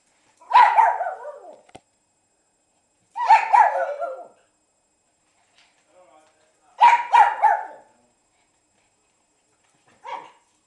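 A small dog, called a little demon dog, barks in four separate short bursts spaced a few seconds apart, fairly close and loud, with quiet gaps between and the last burst briefer.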